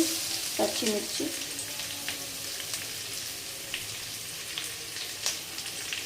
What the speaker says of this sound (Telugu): పచ్చిమిర్చి ఇంకా ఆలు, ఇవి నెయ్యిలో వేగుతాయి కదా